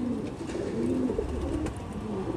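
A Jaipur Tonk high flyer pigeon coos softly and continuously at close range, a low rolling murmur with a few faint higher chirps from other birds behind it.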